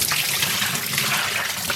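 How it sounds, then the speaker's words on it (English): Running water rinsing soap out of hand-dyed non-superwash wool yarn, a steady, close rushing and splashing stream like a tap pouring, loud and continuous throughout. "now I just need to rinse out our soap"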